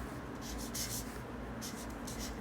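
A marker or chalk draws houses on a classroom board in bursts of soft, rhythmic scratching strokes, quiet against steady room noise, with no talking.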